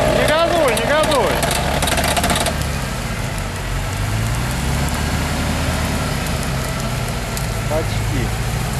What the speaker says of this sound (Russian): Не газуй, не газуй.